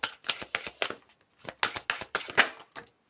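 A deck of oracle cards handled and shuffled at close range, with a series of crisp riffling slaps in quick rhythmic bursts, a brief pause, then more shuffling. Nobody speaks.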